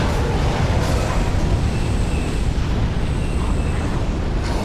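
A fire explosion in Dark Souls 3 at the shrine, a loud roaring blast of flame that fills the space with a steady rushing burn throughout.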